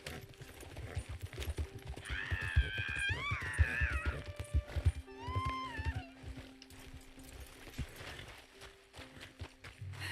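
Horse hooves clip-clopping in Red Dead Redemption 2, a steady run of hoofbeats under game music and a neighing, whinny-like tone, moderately loud throughout.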